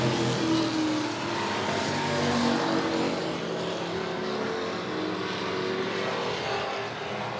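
Pure stock race cars roar around the oval at Monett Motor Speedway during a heat race, a continuous loud engine drone with shifting revving tones as the pack circles.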